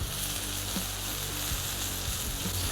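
Smash burger patties sizzle loudly and steadily on a Weber cast iron griddle, a dense continuous frying hiss close by with no voices.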